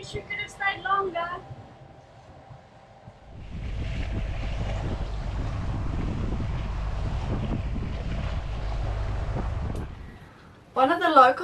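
Strong wind of about 20 to 22 knots buffets a sailboat in an exposed anchorage with rising waves, a loud rushing roar in the middle of the clip. A voice talks briefly at the start and the end.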